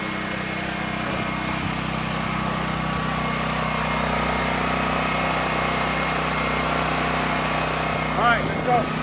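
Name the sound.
portable generator running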